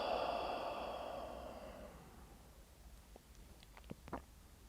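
A slow, soft exhale during a guided meditation session, a gentle breathy sigh fading out over a couple of seconds, followed by faint small clicks in a quiet room.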